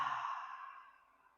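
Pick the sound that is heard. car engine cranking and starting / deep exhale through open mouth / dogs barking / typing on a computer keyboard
deep exhale through open mouth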